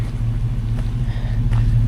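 An adventure vehicle idles with a steady, low exhaust rumble through its muffler, heard close up and continuous, with no talking over it.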